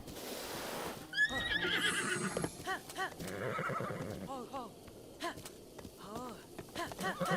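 A horse in The Legend of Zelda: Breath of the Wild whinnies loudly, then its hooves clip-clop in a quick, irregular rhythm, close and clear, with someone talking over parts of it.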